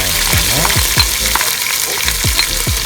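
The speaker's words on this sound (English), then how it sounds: "Okay, now the paste is sizzling." Curry paste for curry chicken sizzles loudly in a hot pan at a Malaysian street food stall, with a steady frying hiss broken by repeated scraping strokes of a utensil stirring it.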